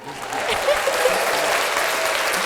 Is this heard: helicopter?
no